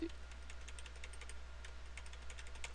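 Computer keyboard keys are pressed while a Blender game is tested, giving a series of light, close plastic clicks over a steady low hum, with no speech.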